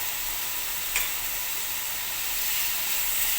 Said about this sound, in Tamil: எக்ஸ்ட்ரா ஃப்ளேவருக்காக கொஞ்சமாக இதில் பட்டர் சேர்க்குறேன்